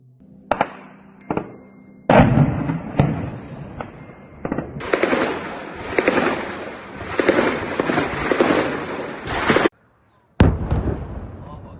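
Explosions from rocket and drone attacks by Hezbollah on Israeli military targets, a rapid series of sharp blasts and cracks with sustained rumbling bursts, loud and close, briefly cutting to silence before another blast.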